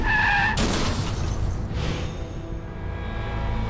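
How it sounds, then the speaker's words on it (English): A truck skids and slams through a highway guardrail, a loud grinding screech with a burst of crashing impact near the start, then a long rumbling scrape and clatter that slowly fades, with no talking. "The truck jackknifed and crashed through the guardrail."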